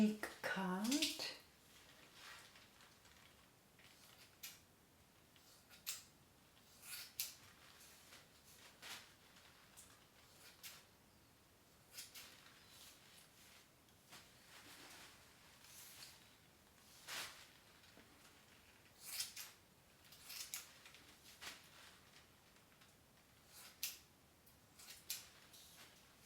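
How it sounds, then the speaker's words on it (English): Scissors snip through someone's own hair in a quiet room, faint scattered clicks and crisp cuts arriving irregularly over nearly half a minute, some in quick pairs, with soft handling sounds between. "This part has more hair, so it's relatively hard to cut."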